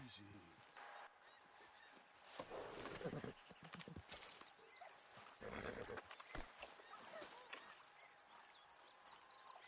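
Horse hooves clip-clopping in Red Dead Redemption 2, with a whinny and animal honks over a faint outdoor background, fairly quiet and intermittent.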